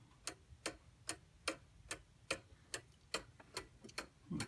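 An antique 1700s Black Forest clock with wooden-gear drive and twin glass bells ticks steadily, about eleven crisp, evenly spaced ticks close up with no voices.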